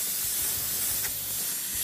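An airbrush or spray gun sprays paint onto a car to paint flames, making a continuous, close, steady hiss that swells slightly midway through.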